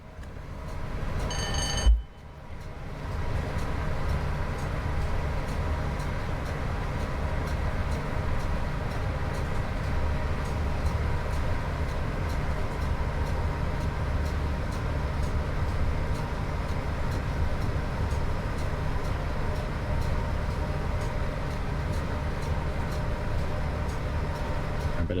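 Electric train in Train Sim World 5 on the West Coast Main Line between Preston and Carlisle, a tap changer locomotive in a snow storm: a steady low rumble and drone of traction and rails running continuously after a brief knock near the start.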